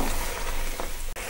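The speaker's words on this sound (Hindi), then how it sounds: "अब हम बाकी के मसाले डाल देते हैं और मसाले डाल के फ्राई करते हैं" Spices frying in hot oil for seekh kebab handi, a dense, loud, continuous sizzle with stirring and a brief break near the end, close up with no talk.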